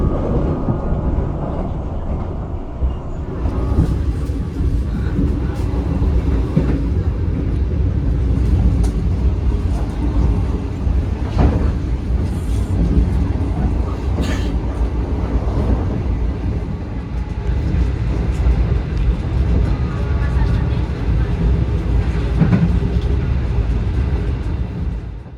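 An Indonesian economy-class passenger train rumbles steadily along the rails, heard from inside, a loud continuous roar with rhythmic clatter and occasional metallic squeals.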